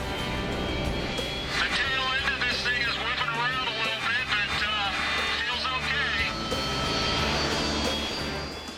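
Aircraft engine driving a strong wind blast at a protective shield, a steady loud broadband roar with fluttering whine that holds throughout, with voices and commotion over it.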